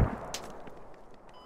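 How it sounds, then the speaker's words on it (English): Gunfire in the military shooter Squad: a sharp shot burst at the start, then a few quieter, more distant shots and reports trailing off over about a second and a half. "Shots being fired at the rally point."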